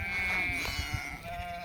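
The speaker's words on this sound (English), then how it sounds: "Oh, there are some pretty lambs out here." Lambs bleat out on a green grass pasture, with a wavering, drawn-out cry close by and softer bleats and rustling around it.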